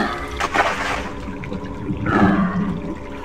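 Swimming through water in the Cry of Fear video game: continuous sloshing, rushing water with splashy surges that swell and fade, close and steady throughout.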